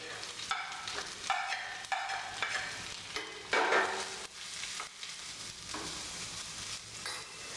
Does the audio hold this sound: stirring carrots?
yes